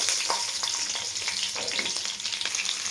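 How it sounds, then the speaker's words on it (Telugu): Green chillies fry with golden cashews in hot oil in a pan for a masala rice, a dense continuous close sizzle with a few light stirring clicks and no talking. "పచ్చిమిర్చి కూడా వేగాయండి."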